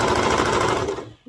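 A sewing machine stitches a neckband onto a baby bodysuit, running in a fast, steady mechanical buzz close up for about a second before stopping abruptly.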